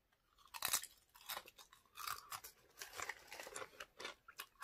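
Close, quiet crunching and chewing of a vegan snack from a snack box, with repeated crisp bites and rhythmic munching over several seconds and no talking.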